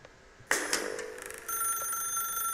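A telephone rings in the video game The Stanley Parable with a sharp, close bell burst that trembles and fades, then gives way to a steady electronic tone.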